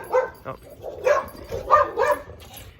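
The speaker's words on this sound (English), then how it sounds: "Excuse the dog in the back." A dog barks several times in the background, giving a few short yaps spread through the moment while a person speaks over it.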